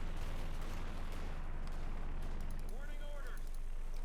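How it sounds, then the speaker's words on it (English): Mortar fire in the Company of Heroes 2 real-time strategy game, muffled low booms under a continuous battle rumble, with a whistling tone near the end and someone talking over it. "Mortar fire here now with 11 kills on that mortar."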